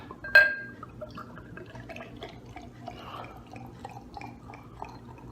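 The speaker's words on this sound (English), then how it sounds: "let's give it an aggressive pour" An imperial blonde ale is poured hard into a glass, opening with a sharp clink and splash, then a steady, soft fizzing trickle and foaming that continues at moderate, close range with no talk.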